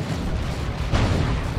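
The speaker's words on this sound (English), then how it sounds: "Explosion on death and sends those Chaos Space Marines flying." Bio Meltdown death explosion from the strategy game Dawn of War 2 amid battle with Chaos Space Marines: a dense rumbling blast over continuous noisy combat, with a sharper burst about midway.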